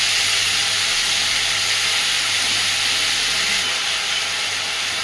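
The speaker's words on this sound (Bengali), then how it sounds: "সব কিছু কুমড়ো, পেঁয়াজ, রসুন সব কিছুকে সুন্দরভাবে ভাজতে থাকবো" Pumpkin, onion and garlic frying over medium flame in a pan, a steady close hiss and sizzle that holds without pause.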